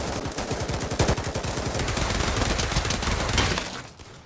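Rapid automatic gunfire from the Pavlov VR shooter game, a loud dense burst of cracks running for several seconds before tailing off near the end, with no voices over it.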